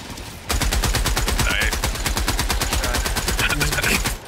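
Loud, rapid automatic gunfire from several Helldivers 2 players firing together into a bug breach, a dense unbroken stream of shots that starts abruptly after a brief lull and runs nearly the whole time.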